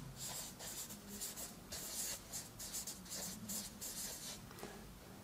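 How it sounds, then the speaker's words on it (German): Steady scratchy pen or marker strokes on a surface, in quick repeated bursts, close and fairly loud, with no voices. "ich schreibe es hier unten hin"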